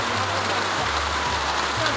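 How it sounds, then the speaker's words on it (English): Rain falling steadily outdoors in a community at Nsawam, a dense even hiss of drops on surfaces, loud and unbroken throughout. "We had to pause the interviews at this moment because it was just about raining."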